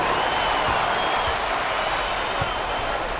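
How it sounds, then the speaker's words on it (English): Steady crowd cheering and applause fills an NBA basketball video game, with a few ball bounces and a faint commentator voice under the roar. "A big round of applause"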